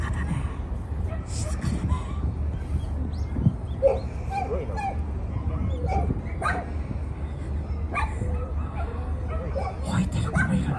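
Beagles and other dogs bark and yip sporadically at an outdoor dog competition during a sit-stay event, faint over steady low crowd rumble, with people talking throughout.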